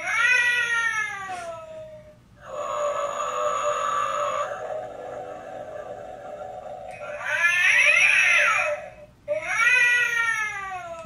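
A Halloween toy cat from Target gives several long electronic meows with gaps between them, loud and close, with no talking over it.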